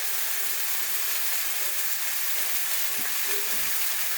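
A marinated paprika pork chop fries gently in a pan over low heat, giving a steady, close broadband sizzle that holds evenly throughout with a few soft crackles.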